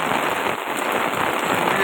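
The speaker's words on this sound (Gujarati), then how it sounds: "જોરદાર વરસાદ છે" Heavy afternoon rain pours down in Rajula under dark clouds, a loud, unbroken hiss of drops striking surfaces close by, steady from start to finish.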